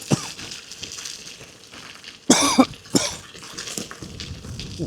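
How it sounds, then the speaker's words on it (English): While bikepacking on a winter road route, a cyclist who has swallowed flies gives a few sharp, close coughs over steady outdoor noise. "swallowed a few flies, which was making me cough somewhat."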